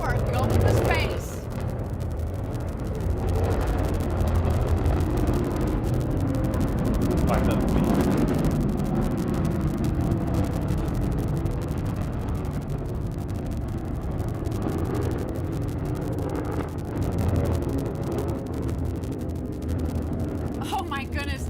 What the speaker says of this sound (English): listen to the roar of the BE-3 engine